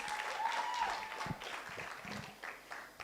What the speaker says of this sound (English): So one more time, a round of applause.